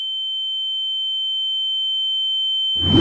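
A steady, piercing high sine tone imitates tinnitus ringing in the ears, holding constant and loud for nearly three seconds before a brief burst of noise cuts in at the end.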